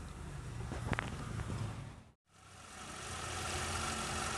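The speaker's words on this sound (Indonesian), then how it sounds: "ini saya hidupkan dulu ya kita ke depan lihat mesinnya" A car engine running at idle, checked after the oil indicator lit while driving, a steady mid-low hum with a brief dropout before settling back into an even idle.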